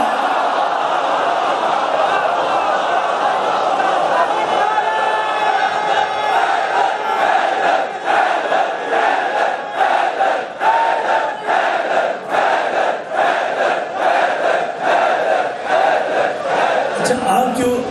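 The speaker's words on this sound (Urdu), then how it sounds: "آپ جو یہ حیدر کا نعرہ، یہ نعرہ حیدری مسلسل بلند کرتے ہیں" A large crowd at a Muharram majlis loudly and repeatedly chants the Nara-e-Haidari slogan in rhythmic pulses, the voices swelling together and continuing for nearly eighteen seconds.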